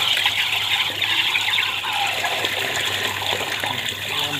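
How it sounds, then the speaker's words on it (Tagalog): Water is released from a fan coil unit supply line while its strainer and coil are cleaned, giving a steady, close rushing gush that continues without a break. "i-release niyo yung konting tubig para malinis din yung nasa loob ng supply"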